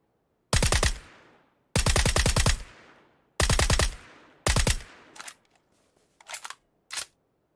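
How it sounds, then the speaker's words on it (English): Gunfire in PUBG on Xbox One X: four loud, sharp bursts of rapid automatic fire, each trailing off, followed by a few shorter, quieter scattered shots. "Man, I shot really badly on that guy."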